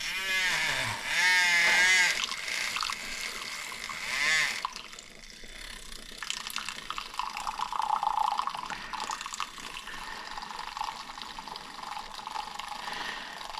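A handheld milk frother whirs in a cup of milk, its motor pitch rising and wavering in a few loud bursts before settling into a softer, steady bubbling whir.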